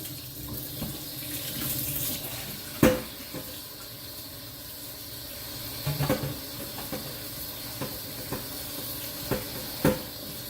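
Cold tap water runs steadily into a sink, with a few brief clatters and splashes as cabbage is rinsed under the stream.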